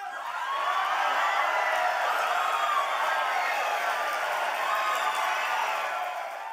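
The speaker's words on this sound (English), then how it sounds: "he delivered the news to the crowd, which erupted in wild cheers" A political convention crowd cheers wildly in a sustained roar of voices and whoops that swells in, holds steady and eases off, fairly close and loud, with no individual speech standing out.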